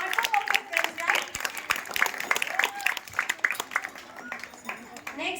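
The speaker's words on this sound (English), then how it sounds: "round of applause" Applause and clapping from an audience at a school annual prize distribution, with steady rapid claps rising and falling over several seconds while a voice talks over it.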